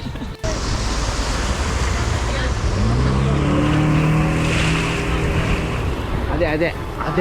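Speedboat on a lake at Udaipur, Rajasthan: a loud, steady engine drone mixed with rushing wind and water, the motor's pitch climbing in the middle, with voices faintly underneath.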